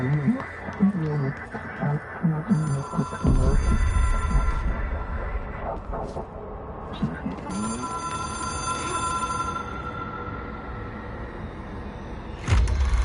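An old telephone rings in Control, two long sustained rings over low rumbling ambience, following a stretch of speech early on.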